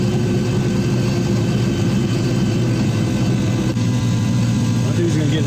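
A turbocharged muscle car engine runs steadily with a deep, continuous low rumble, heard from inside the car while cruising gently below full throttle.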